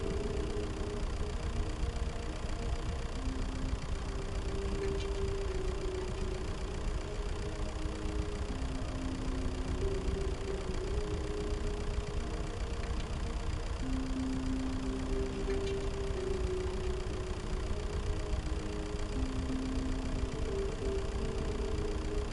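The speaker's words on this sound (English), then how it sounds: "This is a tractor and not a bucket." Tractor engine idling, a steady low rumbling drone with a faint regular pulse, holding at an even level throughout with no talk over it.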